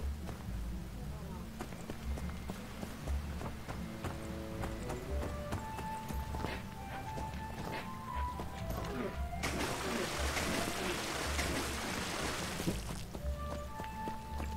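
Horse hooves clip-clopping in a steady rhythm as a character rides through a game world, joined by game music and effects; a noisy burst partway through briefly masks the hoofbeats, with speech heard near the start.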